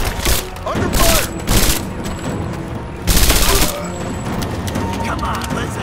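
Gunfire rattles through a combat firefight in Rise of the Tomb Raider, with dense bursts of shots, loud volleys near the start and again around the middle, and splintering impacts between them. Voices shout over the shooting.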